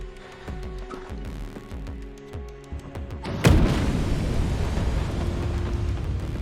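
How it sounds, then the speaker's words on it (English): Repeated rocket launcher strikes pound a building in wartime combat, with several sharp, distant thuds followed by one massive close blast that leaves a long roaring rumble. "they just keep pounding that building with rocket launchers"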